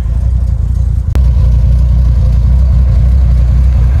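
A 1973 Chevelle SS V8 idles close by with a lopey, choppy rumble, loud and continuous apart from one sharp click near the start, with no talking.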